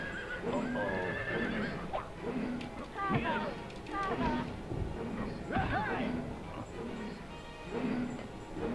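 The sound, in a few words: horse neighing in the video game Dream Story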